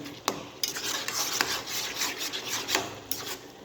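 Green peas being stirred into tomato curry in a pan, giving a steady scraping, rubbing rasp of a utensil against the pan with a few sharper knocks, close and moderately quiet with no talking.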